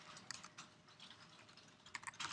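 Typing a command on a computer keyboard during a neuroimaging software workshop, with quick, uneven key clicks in bursts that grow denser near the end, close and moderately quiet, with no voices.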